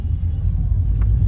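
Road traffic with many passing cars: a loud, continuous low rumble of engines and tyres, close by, steady for the whole stretch with no voices.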